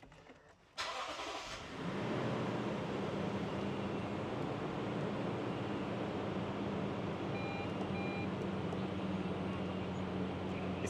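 A 2019 Toyota Land Cruiser engine cranks and fires at about one second, then settles into a steady, loud, even idle hum that continues alone to the end.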